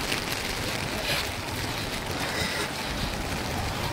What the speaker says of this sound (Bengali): জোরেই বৃষ্টি হচ্ছে দেখো।